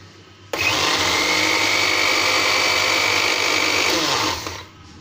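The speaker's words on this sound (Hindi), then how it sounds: "ये जूसर मशीन के जग में मैंने एक कप जो है सूजी डाल दी है" Electric juicer-mixer jar grinding coarse semolina into fine powder: a loud, steady high whirring motor starts abruptly, runs for about four seconds, then winds down.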